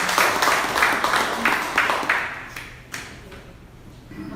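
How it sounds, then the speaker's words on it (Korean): An audience at a political forum meeting claps in a rhythmic, steady beat of crisp hand claps that gradually fades over a few seconds. "크게 박수 쳐주십시오."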